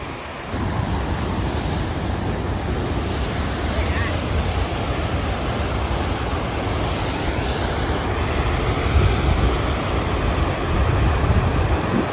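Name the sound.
waterfall near Yellowstone south entrance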